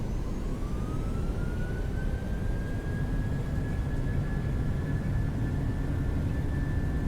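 A PMDG 737-800 in Microsoft Flight Simulator 2020 spooling up its jet engines for takeoff, a steady loud roar with a rising whine that climbs and holds throughout.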